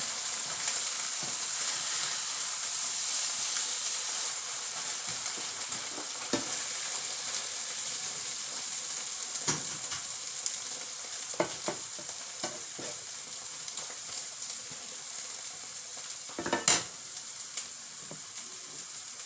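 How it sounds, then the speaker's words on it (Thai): Shellfish frying in a pan with new garlic added, a steady loud sizzle throughout with occasional scraping stirs and clinks, no talking. "แะทอดหอยเลยนะเนี่ย"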